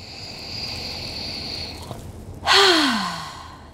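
A deep, slow breath drawn in during a calm self-love relaxation exercise, heard up close as a single strong inhale that swells and then trails off, with no talking over it.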